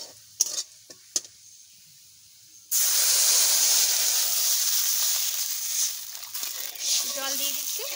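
A few stirring clicks sound in a quiet pan, then water is poured into frying chilli leaf curry and bursts into a loud, sustained steamy hiss that slowly settles, close up.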